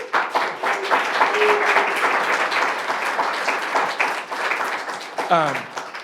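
Audience applause at a civic forum on Worcester's city master plan, steady clapping from a roomful of people with scattered voices underneath.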